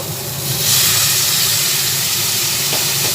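Water is poured into a hot pan of egg and potato curry, setting off a loud, close burst of hissing steam that swells within the first second and holds steady without talk.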